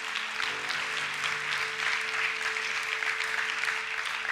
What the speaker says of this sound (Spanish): Dale un fuerte aplauso a Cristo Jesús.